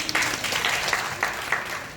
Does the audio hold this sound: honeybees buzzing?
no